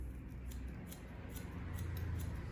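Scissors snip through hair during a salon haircut, a series of crisp, fairly quiet metallic cuts at a slow, irregular pace over low background room noise, with no speech.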